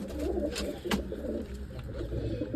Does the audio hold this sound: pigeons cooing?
yes